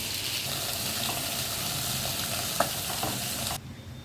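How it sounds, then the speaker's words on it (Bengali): Fish frying in hot oil while another pan of pointed gourd is being cooked down, a steady close sizzle with a few stirring clicks, ending abruptly near the end. "একই সাথে আমার হয়ে যাচ্ছে এদিকে মাছ ভাজা আর এইদিকে পটল কষানো"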